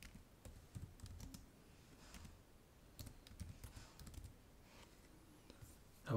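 Quiet typing on a computer keyboard while filling in a form, with soft, irregular key clicks in short bursts, close but faint, and one louder knock at the end.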